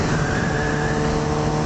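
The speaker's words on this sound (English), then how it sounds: "I get the stage 2 silencer, man. The bike sounds so sweet." Motorcycle fitted with an M4GP stage 2 exhaust silencer, a steady close engine drone holding an even tone throughout with no talk.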